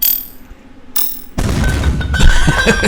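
Cannons fire in a video game being built, a sudden loud burst of booming, crashing impacts with metallic clatter that keeps rolling on for over a second after a quieter mechanical stretch.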